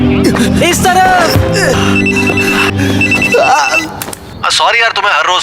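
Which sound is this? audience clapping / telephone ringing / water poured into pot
telephone ringing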